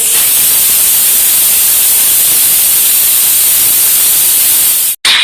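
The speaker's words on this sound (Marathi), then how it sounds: "आणि याच्या 4 शिट्ट्या काढून घेणार आहोत।" A pressure cooker of rustic mutton rassa lets off steam in a loud, harsh, continuous hiss that fills the clip, then cuts off abruptly for a moment just before the end.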